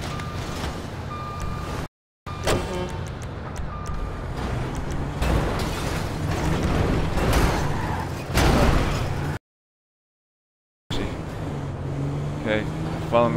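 Armed pickup truck, a technical in GTA 5, drives with a steady engine rumble and road noise. Occasional clunks and beeps break in, people talk over it, and the sound drops out briefly twice.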